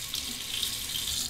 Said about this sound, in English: I'm just going to soak this under the hot water as well.